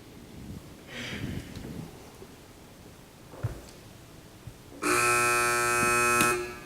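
A quiz-match answer buzzer blares in a loud, steady electronic tone for nearly two seconds near the end, following a stretch of quiet room noise and faint murmuring.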